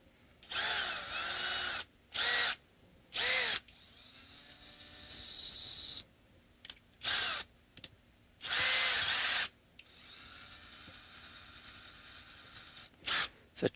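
A power drill with a cheap, wobbling bit enlarges a hole in a guitar bridge saddle for an Epiphone Chet Atkins, several loud whirring bursts of varied length separated by quiet pauses, close up.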